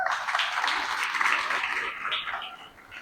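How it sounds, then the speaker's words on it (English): Audience applause at a home design awards evening for the magazine team, a dense, steady wash of clapping from the crowd that fades toward the end. "Please give the DSM team a big round of applause as well."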